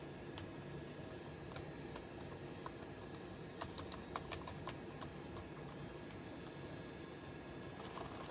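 Keys pressed on a Compaq Armada 4120 laptop with a faulty keyboard, producing faint, irregular clicks that come in scattered bursts over a quiet background hiss, with no talking.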